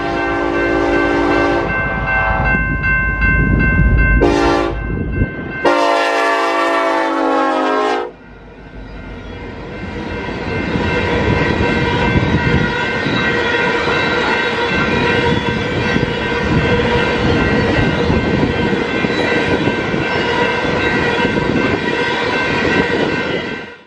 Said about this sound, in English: a coal train was headed my way with a Montana Rail Link locomotive trailing second